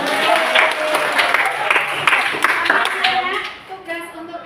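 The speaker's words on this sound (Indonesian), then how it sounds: "Pinternya ya Allah, tepuk tangan." Students in a Year VIII junior high Indonesian-language class at SMP N 6 Salatiga clap for a classmate, a brisk round of close, crisp hand claps that thins out toward the end as voices continue.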